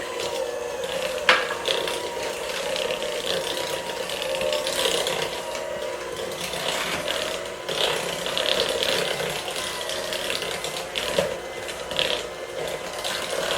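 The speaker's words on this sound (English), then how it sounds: "You can do this on a stand mixer also, or you can do it with your handheld mixer." A handheld or stand electric mixer churns thick cake batter for funfetti cake pops, giving a steady whirring, grinding drone with faint rattles that carries on alone for the whole stretch.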